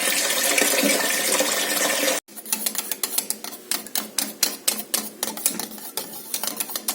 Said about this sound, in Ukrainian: Наливаємо холодну воду.